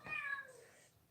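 A cat gives one short, faint meow off to the side, a brief rising-falling cry that fades into quiet room noise.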